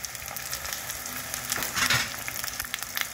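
Okra and green chillies hit hot mustard oil for a mustard-poppy dish, producing a moderate, even sizzle with a brief louder swell of spitting and light stirring taps, heard close with no voices.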